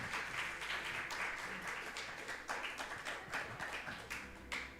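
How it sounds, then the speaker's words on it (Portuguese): A church congregation claps together in a worship service: a steady, dense round of applause with uneven, rippling peaks that carries on for the whole stretch. "Aplauda o Senhor."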